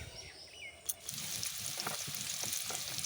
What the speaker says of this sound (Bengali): এদিকে আমার আলু ভাজা পুরো রেডি